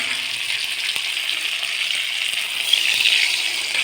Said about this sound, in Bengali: আমি এবার জলটা ঢেলে দেবো জলের জলটা দিয়ে দেবো